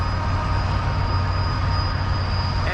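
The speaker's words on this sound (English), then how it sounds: "train going by" A freight train hauling petroleum and other products rumbles past at close range in Canada, a loud, steady roar of rolling wagons with a high metallic wheel squeal running throughout.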